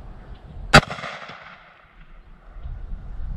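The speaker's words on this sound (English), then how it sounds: "let's try to pop off 5 rounds here and see what kind of numbers we get" A single sharp, loud gunshot from a .45 Cowboy Special load with a 230-grain bullet, fired over a chronograph, cracks near the start and then decays into low room noise.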